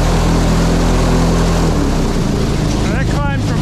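An airboat engine idling cold under a carport roof, a loud steady low drone with strong harmonic rumble throughout, shifting slightly in pitch partway, with a brief higher whine near the end.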